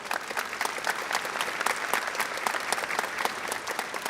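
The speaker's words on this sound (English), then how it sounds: "Would you give them a round of applause," Steady applause from a commencement audience for college singers and a brass quintet, dense overlapping claps filling the hall without pause.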